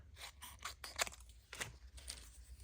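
Scissors snip through craft paper in several quick, close cuts, a crisp crunching rhythm with brief pauses and no talking.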